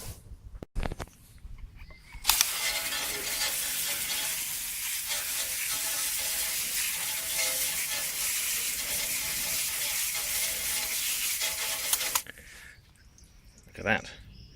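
Water spray rinsing car wheels after cleaning them with Autoglym Magma, a steady loud hiss lasting about ten seconds that cuts off abruptly, with brief handling noises before and after.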